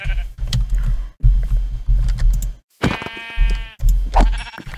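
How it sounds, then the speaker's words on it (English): Sheep in Minecraft bleat loudly several times in quick succession, nasal wavering cries close by between stretches of game noise. "there's a lot of sheep over here"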